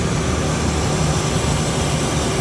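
King Air turboprop propellers being pulled back into the feathered position, heard as a loud, steady, broadband engine and propeller roar close to the microphone, unbroken throughout.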